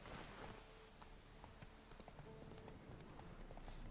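A horse gallops in The Witcher 3 video game, its rapid rhythmic hoofbeats continuous and fairly faint under a broad wash of background noise.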